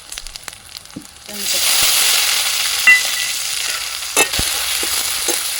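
Chopped greens tossed into a hot pan of oil with garlic paste, turmeric, salt and sugar burst into a loud, steady sizzle after a few quiet clinks, with stirring scrapes near the end.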